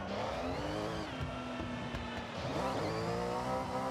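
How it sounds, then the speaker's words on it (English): A race car in Forza Horizon gives a sustained high engine whine that rises and falls with revving, loud and continuous with tire noise and no talking. "It's the whine you hear from race cars."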